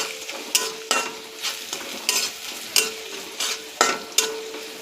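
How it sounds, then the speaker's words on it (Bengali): A spatula stirs a frying mixture seasoned with turmeric and salt, scraping the pan in a regular rhythm of about two strokes per second over a soft, constant sizzle. "এটাকে ভালো করে নেড়ে নিতে হবে।"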